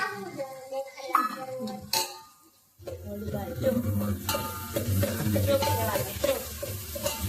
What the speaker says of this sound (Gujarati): ત્યારબાદ ટમેટા નાખી દઉં છું.